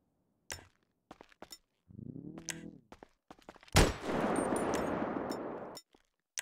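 Plasma gun firing in the video game GTA 5, with sharp separate shots, a brief whirring buildup, then a loud crack followed by a sustained roaring blast that cuts off and a few more sharp cracks.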